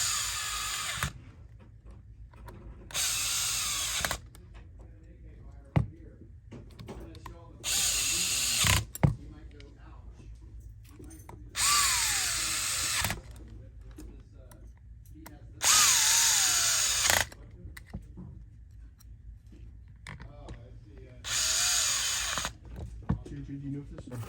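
A power driver whines in repeated bursts, each lasting a second or two, while it tightens screws on a Cyma airsoft gearbox in a G&G rifle. Small clicks and handling noises fall between bursts, all close up.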